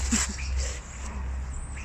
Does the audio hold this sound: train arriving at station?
no